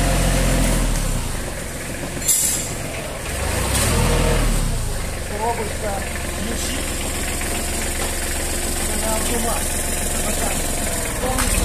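Engine of a used Japanese tractor running at maximum speed, a loud, steady rumble that rises and falls slightly, with voices talking over it.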